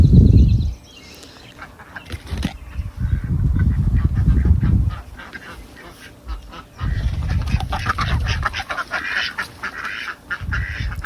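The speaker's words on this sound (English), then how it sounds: "our ducks are Indian runner ducks" Indian runner ducks calling in bursts of loud, harsh quacking in a garden, with quieter gaps between, close by, over faint background bird chirps.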